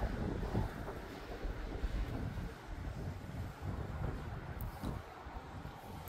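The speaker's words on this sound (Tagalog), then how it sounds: "Tapos lakas na ng hangin" Strong wind buffets the microphone outdoors, a constant low roaring rumble with gusty swells and no clear pauses.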